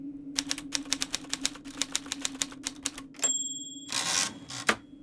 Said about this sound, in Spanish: colocó en posición la hoja en la máquina de escribir y comenzó a anotar la declaración de mi madre